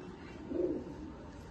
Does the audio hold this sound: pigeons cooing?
yes